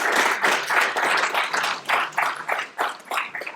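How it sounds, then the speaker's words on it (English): Audience clapping at an IB Programme information evening for the program coordinators; a modest group claps in uneven bursts that swell and dip, thinning toward the end of the short stretch. "Let's give them a round of applause"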